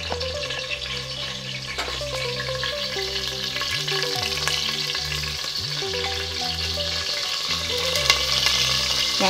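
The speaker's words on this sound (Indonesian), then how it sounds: "ni dia minyak dah panas. Kita masukkan yang kayu manis, bunga lawang, daun pandan semua dulu." Cinnamon sticks, star anise and pandan leaves sizzle and fry in hot oil for a Malaysian-style Indian chicken kurma, a steady close crackle with stirring, and music playing underneath.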